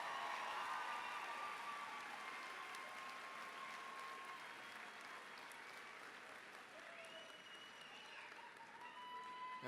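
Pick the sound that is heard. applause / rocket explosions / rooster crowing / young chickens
applause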